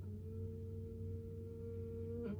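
A steady low electrical hum with a few faint overtones drones alone and unchanging, as a radio-drama effect for a mysterious object, ending with a brief soft noise.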